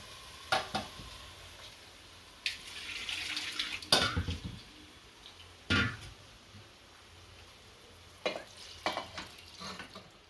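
Water splashes into a pot of dal khichdi with chilli and garam masala in several short, irregular pours, with gentle clatter and stirring in between, close by and fairly quiet.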